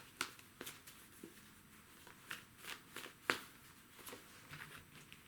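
Tarot cards shuffle and flick softly on a table, a series of quiet brisk riffles and snaps with no talk.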